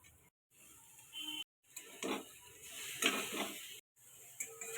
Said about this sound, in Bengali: ভেজে রাখা আলুগুলো দিয়ে দিব